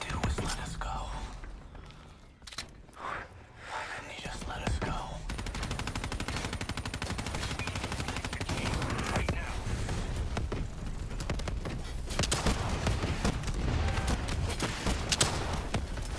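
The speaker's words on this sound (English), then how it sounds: "That's it. That's two shots there." Gunfire in the Black Ops 3 campaign video game, dense bursts and shots running continuously under a speaking voice, with loud game action throughout.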